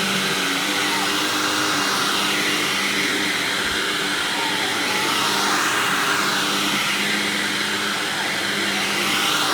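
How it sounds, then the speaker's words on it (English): A loud Hoover TTI WindTunnel self-propelled upright vacuum cleaner drones continuously, its rushing airflow and motor whine holding steady with a faint shifting pitch in the upper hiss. "Now we'll again give you the sound of the TTI wind tunnel."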